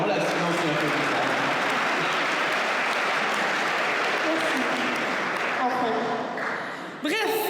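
Guests at a recognition gala in Lanoraie applaud in a long, even burst of clapping, which thins near the end as voices begin to come through.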